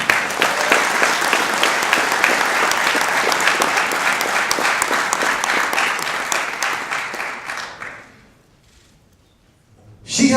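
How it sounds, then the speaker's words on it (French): Sustained applause from a large audience at a martial arts event introducing honoured guests, steady and loud for several seconds before fading out into near silence. "On applaudit!"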